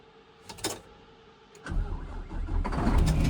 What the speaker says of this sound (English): I made it to the truck here, so we'll get it started